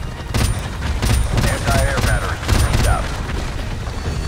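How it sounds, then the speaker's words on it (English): A blast in Call of Duty: Modern Warfare Remastered comes with heavy booms and rumbling gunfire. Several loud low thuds rise and fall over a few seconds, overlapping a shouting voice and game noise. "Boom! Explosion!"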